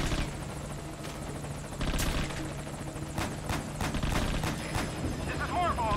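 Helicopter in Metal Gear Solid V: Ground Zeroes taking gunfire, rotor drone steady throughout with sharp impact bursts and crackles of damage layered over it, loud and close, with faint voices in the background.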